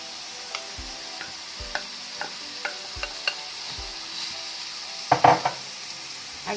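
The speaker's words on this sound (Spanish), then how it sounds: "Agregamos la carne y mezclamos bien hasta que se incorpore todo y la carne cambia color" Ground meat for bolognese sizzles in a pan while a utensil scrapes and stirs it in a steady series of knocks, closing with a louder clatter of the spoon against the pan, with no talking.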